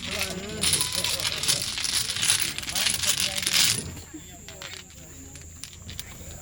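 Dominoes clatter in a dense, loud rattling shuffle on a table at a family birthday gathering, continuing for several seconds before stopping abruptly, with people talking over it.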